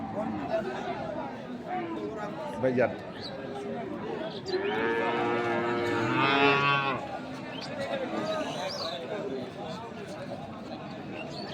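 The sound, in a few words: cattle mooing at a farm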